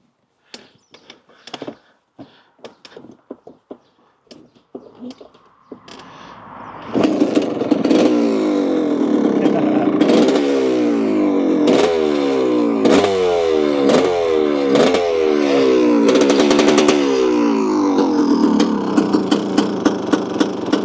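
A 1987 Honda CR250R two-stroke motocross engine, fueled and choked, is kicked over with clattery tries for several seconds, then fires up and runs loud and close, revving repeatedly in sharp rising bursts.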